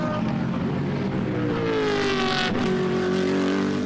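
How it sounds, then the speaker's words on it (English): A BMW Z4 GT race car roars past during timed qualifying at Nogaro circuit, its engine note rising and shifting as it approaches and sweeps by at close range, with commentators talking over it. "Another great sounding car, the BMW Z4."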